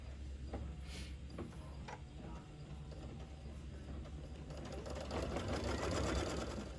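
A sewing machine stitches a tack-down line over layered appliqué fabric on an ornament pillow, its steady mechanical whirring and clicking running close and fairly loud, building slightly toward the end.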